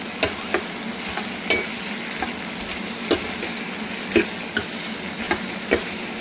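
Onions fry in oil in a pan with a steady close sizzle, punctuated by light scraping taps from stirring at irregular intervals, no speech over it.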